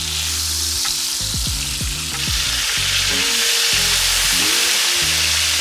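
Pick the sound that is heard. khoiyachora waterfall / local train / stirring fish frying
stirring fish frying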